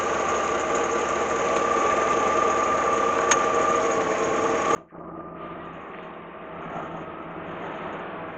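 A first-generation Chevrolet S10 Blazer engine runs at a steady idle, close and fairly loud, then cuts out abruptly to a much quieter background.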